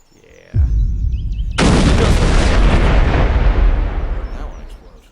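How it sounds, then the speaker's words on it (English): Large bomb explosion in Garry's Mod from the gbombs addon: an initial heavy boom, then a sudden huge blast of roaring, rumbling noise that stays loud for several seconds before slowly fading. "that's if you want a really large explosion"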